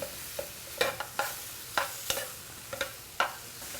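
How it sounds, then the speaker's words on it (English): Faint scraping and clinking of a utensil stirring chicken in a skillet, in irregular strokes over a soft sizzle. "Mix well to the chicken while it's stir frying."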